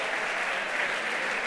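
Dense, even audience applause at the HackUPC 2023 hackathon closing ceremony, a continuous wash of many hands clapping with no breaks.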